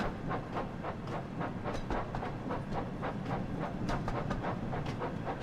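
A train departs Brighton station under the platform canopy in Train Sim World 5, with a rhythmic clickety-clack of wheels over rail joints and a steady rolling rumble, moderately loud and continuous, with no talking.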